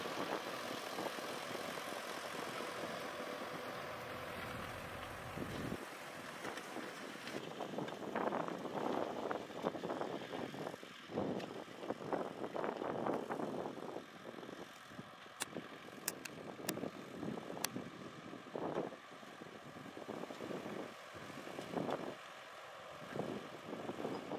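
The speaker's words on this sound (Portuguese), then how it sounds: "apresentando o trator" A tractor cuts earth in the Logradouro district, its engine a faint, rough drone with intermittent louder bursts, partly masked by gusts of wind buffeting the microphone.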